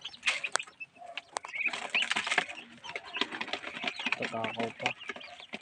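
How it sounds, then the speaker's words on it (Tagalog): A brood of young chicken and duck chicks peeps and chirps continuously in a dense, busy chorus close by, while a person speaks briefly over them. "Ito yung mga sisiw ng manok tsaka pato."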